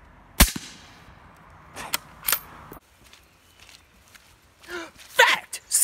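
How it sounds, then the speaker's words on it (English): A suppressed .308 rifle fires with a sharp crack, followed by the bullet thudding into a dirt berm downrange, then a few scattered fainter impacts and outdoor rustling before a short voice near the end. "the sound of the bullet hitting the berm back there is louder than the report from the muzzle"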